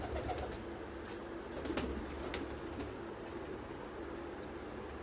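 Pigeons coo in a loft, a soft, continuous low murmuring with a few sharper rustles, heard alone without talk.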